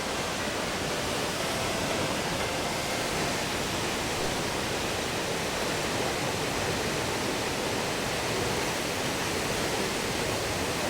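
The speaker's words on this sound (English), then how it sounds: "More running water." Water runs steadily at La Fortuna waterfall in Costa Rica, a constant broad rushing wash with no breaks and no voices.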